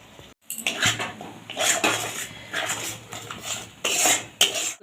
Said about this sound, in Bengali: এবার ভালো করে আবারও মশলাটাকে কষিয়ে নেবো।